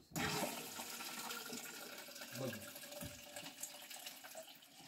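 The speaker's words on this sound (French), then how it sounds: "Alors, je vais mettre de l'eau." Water pours into a pitcher in a home kitchen, a sudden gushing rush that starts abruptly and runs on steadily, with faint knocks and splashes beneath it.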